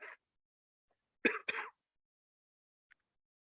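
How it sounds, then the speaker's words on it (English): A single sharp cough splits into two quick bursts, close and fairly loud, with a brief throaty sound just before and a tiny click afterward in near silence. "Apologies, I've got this really bad cough."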